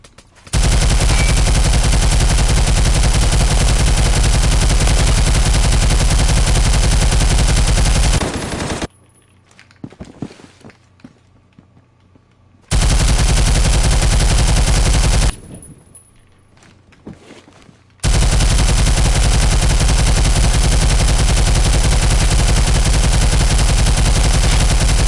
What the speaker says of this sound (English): I love scaring people with this gun.